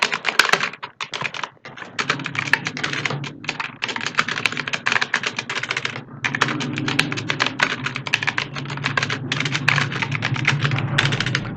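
Fast, steady typing on a computer keyboard as a formal application letter is written, with crisp close-up keystrokes in long runs and a few brief pauses.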